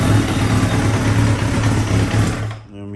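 A 2000 Kawasaki Ninja 750 ZX7R motorcycle engine idles steadily up close with a loud, even rumble, then is shut off near the end, leaving a faint low hum.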